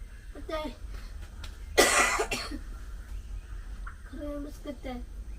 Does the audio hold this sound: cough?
yes